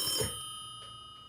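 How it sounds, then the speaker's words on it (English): A telephone rings with a single brief electronic ring tone that fades into quiet room tone, with no talking over it. "Phone is ringing."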